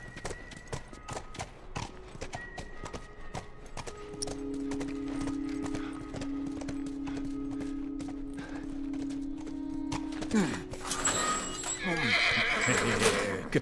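A horse in The Last of Us whinnies over steady clip-clop hoofbeats, followed by a long low drone and then a louder, shrill neigh near the end, close by.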